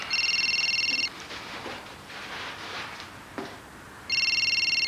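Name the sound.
telephone ringing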